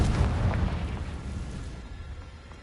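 A heavy, booming fire-spell explosion from the Hogwarts Legacy video game bursts loudly at the start and then rumbles and fades over a couple of seconds, with no voices.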